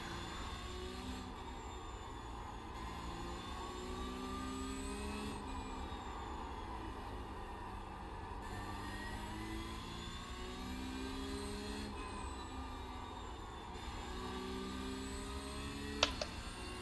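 A race car engine in iRacing shifting down and up through the gears, heard as repeated rising and falling whining engine tones over a steady rumble, fairly faint and without talk.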